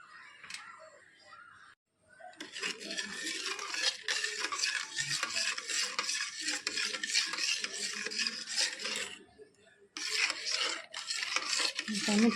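Fish being mixed by hand with salt and mustard oil to marinate it, giving a steady wet rubbing and squelching in a bowl with short pauses, while someone talks over it.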